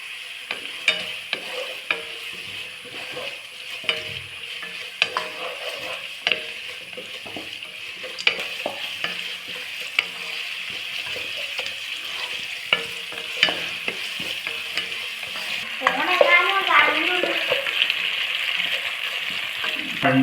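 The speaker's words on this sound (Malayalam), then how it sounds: "കറിവേപ്പില ഇട്ട് കൊടുക്കാം." Curry leaves and onion fry in a pan with a soft steady sizzle while a spoon scrapes and taps the pan in irregular strokes, and the sizzle grows louder and crackles near the end.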